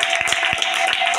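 A church congregation claps in acclamation of the Lord, a few scattered sharp hand claps over a steady murmur and background hum, close and moderately loud.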